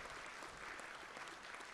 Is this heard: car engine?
no